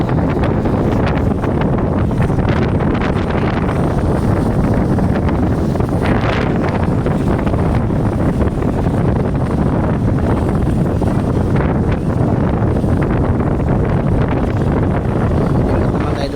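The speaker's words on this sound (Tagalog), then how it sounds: "dahil mahangin dito" Wind on a ship's deck during cargo hold washing blasts the microphone in a loud, continuous rumbling roar that surges and eases throughout.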